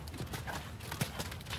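Horse hooves clip-clop on an eventing jump course, a quiet, uneven run of soft beats with a faint voice in the background.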